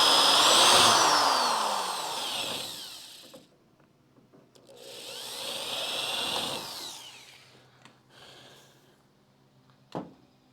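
A power drill with a bit runs in two long bursts, each whining up and then winding down, followed by a few short clicks and a sharp knock.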